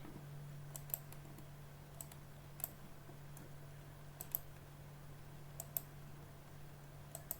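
A computer mouse gives a series of crisp, light clicks at irregular intervals during a photo upload, faint and close over a low steady hum, with no speech.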